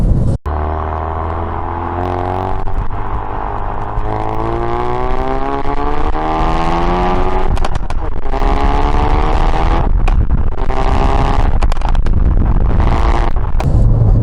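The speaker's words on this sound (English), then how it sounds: "the result is that we have a car now that actually has more pops and crackles" A Ford Focus RS engine revs up and down through its exhaust after a software update, with rising and falling drone that is loud and close. Sharp pops and crackles break in between the revs.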